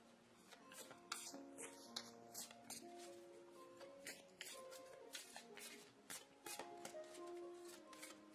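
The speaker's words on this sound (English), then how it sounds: "let's pull some overview cards" Tarot cards shuffled by hand close up at a low level: a quick, irregular run of soft riffles, taps and card slides.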